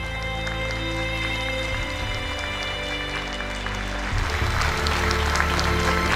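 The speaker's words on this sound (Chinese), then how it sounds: "掌声送给他们双方。" Audience applause at a Clash Bots robot combat match, a steady broadband clatter of many hands that swells louder near the end over a sustained musical backdrop.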